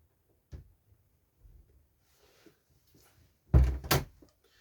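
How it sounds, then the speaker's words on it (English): A door is blown shut by the wind, landing as a loud, close thud with a second bang right after, following a few faint knocks and rustles in an otherwise quiet room. "Sorry, the wind shut my door."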